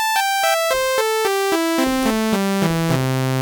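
A bright synth tone steps down a scale in evenly spaced notes, a seventh chord split apart, each a clear sustained pitch, moving lower until a deep final note rings out.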